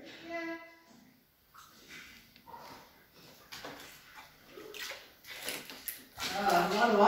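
Water splashes and rushes nearby inside an abandoned prison, swelling louder toward the end, while people talk over it.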